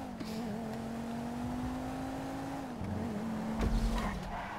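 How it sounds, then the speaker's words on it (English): Vehicles in the video game GTA V roar steadily and close with a sustained engine drone, a tire skid, and a heavy low crash thump near the end, with no talking. "Running over jeeps."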